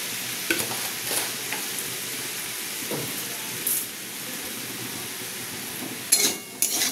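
Chilli powder and sugar fry and sizzle in a pan while being stirred, a steady close hiss with a few scraping knocks and brief louder bursts near the end.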